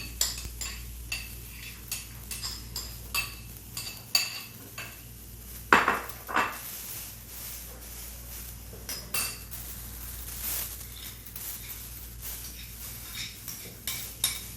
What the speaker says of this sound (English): I'm going to finish mixing up all of our toppings